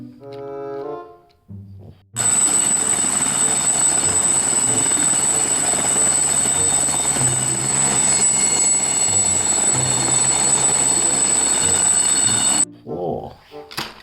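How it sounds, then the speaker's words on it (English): A toy helicopter plays a steady, loud electronic rotor-and-engine sound with a high whine for about ten seconds, bracketed by brief speech before and after. "Helicopter."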